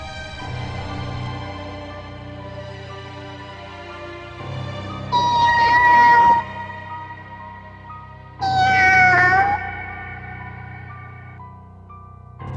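A human voice imitates a cat's meow, heard as two drawn-out, wavering meow calls from behind during a late-night military training-camp march, each lasting about a second, over a steady, quiet musical backdrop.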